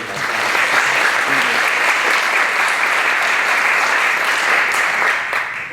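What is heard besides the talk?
audience applause at a keynote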